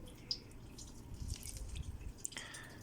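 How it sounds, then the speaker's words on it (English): Water trickles and drips through the coconut-fiber soil and drainage holes of a freshly potted blue juniper pre-bonsai, a faint sparse patter with a few brighter drips close by and no talking. "if you can see that the water is running, it's because it's got nice drainage"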